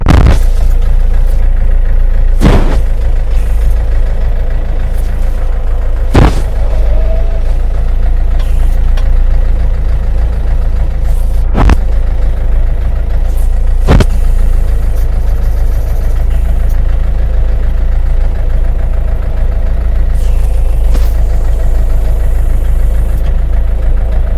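A Kentavr 504 FC mini tractor engine runs steadily with a trailer hitched, a loud continuous idle and low rumble throughout, broken by a few sharp knocks or bangs, with no talk.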